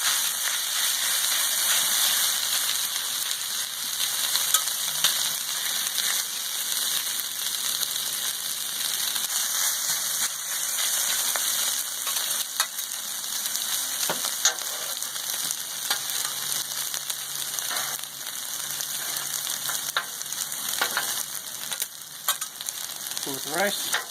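Fried rice with soy sauce sizzles loudly and steadily on a Blackstone flat-top griddle, with scattered spatula scrapes and taps as it is stirred and flattened.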